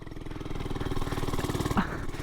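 A cheap Amazon-bought motorcycle's small engine runs during a race, a steady pulsing buzz with a quick rev bump, moderately close and heard without talk.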